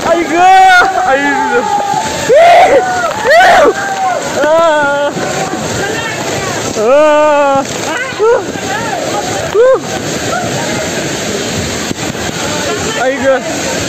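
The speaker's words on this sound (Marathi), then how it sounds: "आता मोठ्या स्लाइड वर जाणार आहे" Riding down a big slide at the Wet n Joy water park: steady rushing, splashing water runs the whole way, nearly buried under loud excited shouts, screams and chatter from riders close by.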